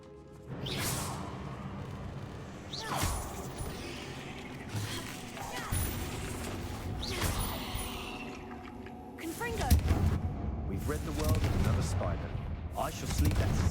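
Spell effects crash and whoosh in the Hogwarts Legacy video game as Accio and Confringo are cast, several sharp explosive bursts and swishes at irregular intervals, with a character's voice speaking throughout.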